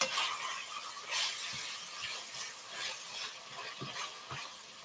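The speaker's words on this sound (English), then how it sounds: "Can you hear that sizzle?" Ground beef sizzles steadily in a hot pot, a continuous bright hiss with occasional soft stirring thumps.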